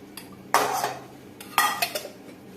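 A non-stick kadai is set down and handled on a kitchen stove, giving two separate bursts of metallic clattering and scraping with quieter knocks in between.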